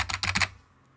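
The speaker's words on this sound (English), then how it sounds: "that is an actual 90s keyboard" Several crisp, close keystrokes clatter on an old 1990s computer keyboard in a quick burst, then fade into near silence.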